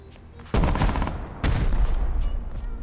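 Gunfire in the survival game Rust, with two loud broadband bursts of shots a second apart, each trailing into a sustained rumble of continuing fire close by.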